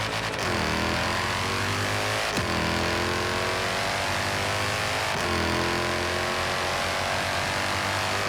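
A Mercedes-AMG GT S engine in Forza Horizon 3 revs hard and loud, rising in pitch through several gear changes with brief drops between shifts, no voices.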